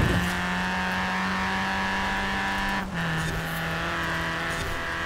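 Car engine droning at steady high revs in the Forza Horizon 4 racing game, driving with an automatic gearbox; one brief dip midway like a gear change, then a sustained hum continues, loud and unbroken with no voices.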